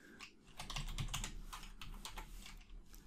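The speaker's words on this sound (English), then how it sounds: "And we'll type prop, P-R-O-P." Typing on a computer keyboard while coding in Visual Studio, a quick run of crisp close key clicks in an irregular patter, fairly quiet.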